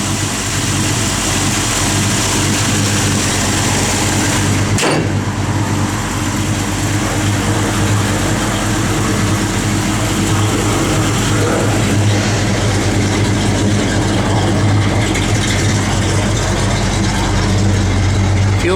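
A 1964 Ford Falcon Sprint with a mild comp cam and a pump-gas motor idles loudly and steadily nearby with a deep, continuous rumble, with one short bump partway through.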